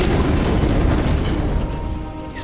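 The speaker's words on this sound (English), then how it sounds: "Explosions everywhere." Booming explosions fill the scene in Hollow Knight: Silksong, a dense continuous rumble of overlapping blasts and bursts, loud and close throughout with no voices, tapering slightly near the end.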